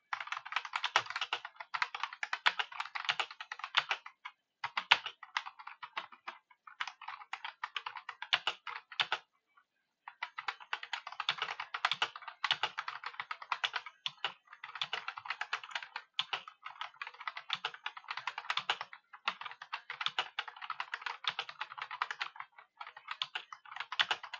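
Rapid typing on a computer keyboard, dense bursts of clicking keys with a couple of brief pauses, close and continuous, with no talking.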